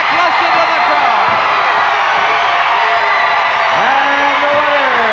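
A wrestling arena crowd cheers and roars loudly and steadily for a World Tag Team title bout, with whoops and shouts rising out of the dense, continuous noise.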